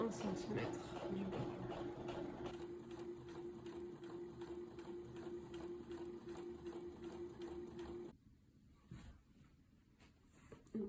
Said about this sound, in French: je fais un point d'arrêt et je fais une couture à 1 cm du bord